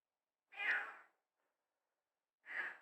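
A cat meows twice, two short clear calls separated by a brief silence, close and fairly quiet.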